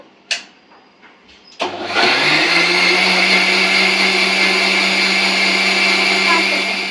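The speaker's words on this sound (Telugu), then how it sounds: "సో ఇంకా మిక్సీ పట్టేస్తాను" A kitchen mixer grinder churning cream into butter at home starts with a few clicks and knocks, then kicks into a loud, steady whirring drone that runs continuously to the end.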